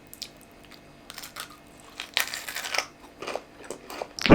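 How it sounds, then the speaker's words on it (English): Someone chewing a crunchy chocolate-coated chickpea snack close to the microphone, giving a series of soft crumbling crunches that grow louder, ending in a sharp bite. "I guess I thought it would be like a harder crunch."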